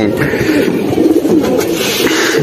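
Pigeons kept for sale coo steadily in a low, throaty warble close by, with a voice faintly present underneath.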